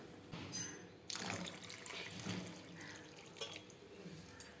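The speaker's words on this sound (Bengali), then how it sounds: "আর একটুখানি আমি জল দিয়ে দেবো এর মধ্যে" Water poured from a container into a pot of cooked red and mung lentil dal, a brief splashing pour followed by lighter trickles and a few small drips, close and fairly quiet.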